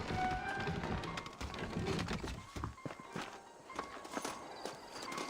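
Horse hooves clip-clopping in the Western game Red Dead Redemption, saddled horses setting off from a New Austin town, irregular soft taps and thuds that drift between near and farther away.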